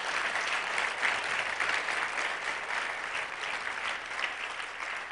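A church congregation claps together in sustained, dense applause, a steady roar of many hands close by with no pauses throughout.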